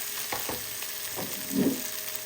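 Spinach leaves dropped into a pan of softened tomatoes, giving a soft rustle and a brief swell of frying sizzle near the end, all fairly quiet with no talk.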